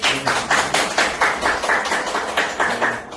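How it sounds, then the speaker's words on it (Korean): A small audience claps at a workplace disability-rights training session held at a sheltered workshop. The claps are steady, rhythmic and fairly close, about four per second, with no talking. "우리 뜨거운 박수로"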